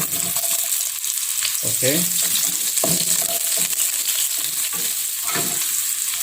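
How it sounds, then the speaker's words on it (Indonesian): Onions sautéing in a hot wok for Malaysian Johor laksa, a loud steady sizzle with repeated scraping stirs and clatter of the utensil against the pan, close up and continuous. "sekarang ini kita tumis bawang bombay"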